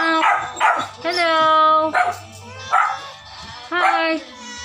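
A puppy at an animal rescue shelter gives a run of high, yelping barks and whimpers in repeated bursts. It is close and loud, with a low steady background hum.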